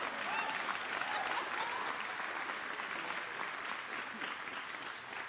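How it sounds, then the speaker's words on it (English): An audience inside a factory applauds at an event on infrastructure and an electric vehicle fleet, giving sustained, dense clapping that fades slightly toward the end. "That's an applause."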